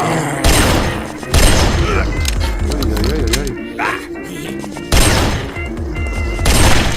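Gunfire in the zombie-fighting gangster video game Guns, Gore & Cannoli: heavy booming shots and bursts with thuds and crashes, loud and close, heard under a voice talking.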